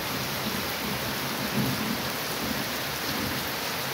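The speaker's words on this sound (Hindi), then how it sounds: "बाकी आप देख सकते हैं बारिश कितनी तेज़ बारिश लगी।" Heavy rain pours down steadily in a dense, even hiss, with a faint low rumble underneath and no voices.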